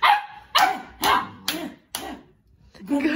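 A pet dog barks five times in an even rhythm, loud and close, with each sharp bark cut off cleanly, followed by a brief fainter yelp or whine at the end.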